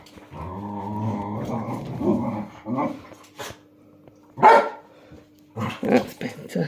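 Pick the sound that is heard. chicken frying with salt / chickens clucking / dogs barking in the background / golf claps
dogs barking in the background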